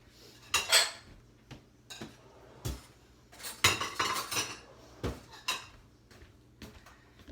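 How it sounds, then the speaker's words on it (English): Cutlery and dishes clink and clatter in a kitchen as someone gets a spoon, with several sharp metallic rattles and knocks at irregular intervals and no talk. "So, let me get a spoon."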